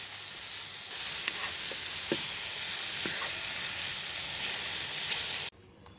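Chicken sizzling in ghee in a pan while being broken into shreds, with steady loud frying hiss and a few soft scraping stirs before it cuts off abruptly near the end.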